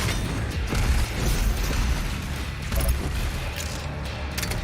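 Meathook chain grapple in DOOM Eternal, heard as loud, dense mechanical clanking and rattling with booming low impacts and brief pops, continuous and unbroken by speech.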